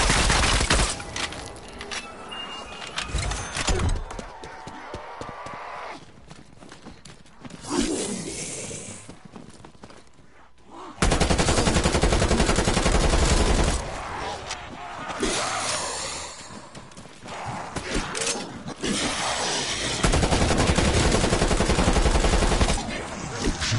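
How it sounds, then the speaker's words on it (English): Submachine gun fire from Call of Duty Cold War Zombies gameplay, with sustained automatic bursts and clusters of shots over game effects, loud and near, with stretches of quieter background between volleys. "Gonna requisition this SMG."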